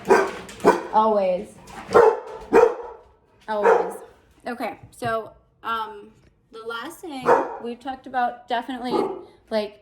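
A pet dog barks in sharp bursts several times indoors, fairly near, scattered between and under a person's ongoing talk.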